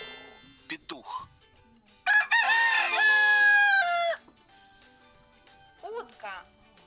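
A rooster crows once in a clear, drawn-out, bright call lasting about two seconds, likely a toy or game sound effect, with brief speech before and after it.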